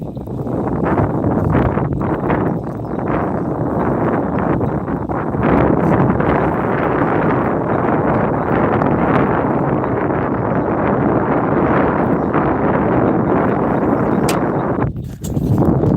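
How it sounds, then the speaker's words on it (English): Strong outdoor wind buffets the microphone in a constant loud rumble and roar, gusting unevenly for the whole stretch with a brief dip near the end, and nobody speaks. "I hate the wind."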